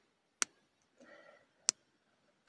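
An action figure's articulation joints give three sharp, isolated clicks spaced over a couple of seconds, close and quiet, with a faint rustle between them.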